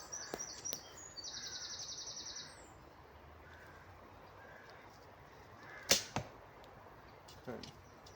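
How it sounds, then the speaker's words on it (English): A 300-spine arrow loosed from a Korean bow gives a sharp snap and whoosh followed by a quick second thud, set against faint outdoor quiet with bird chirps earlier. "Right, shooting again with a 300 spine arrows."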